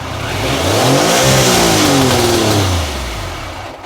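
A Triumph Sprint 900 motorcycle engine revs loudly and close by, its pitch rising through a sustained blip and then falling back toward idle.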